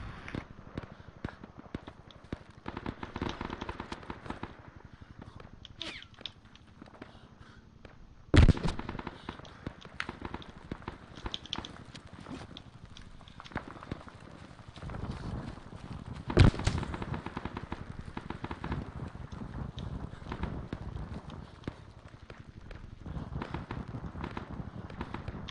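Heavy machine gun fire in the video game ARMA 3, long stretches of rapid, sharp bursts with a couple of louder booming impacts, distant-sounding and fairly faint, with no talk.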